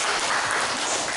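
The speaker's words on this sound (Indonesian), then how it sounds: "Tepuk tangan buat Loren dan Jaja." A classroom of young second-grade pupils applauds two classmates, Loren and Jaja, as they step forward, producing a dense, steady burst of clapping that fills the whole brief moment.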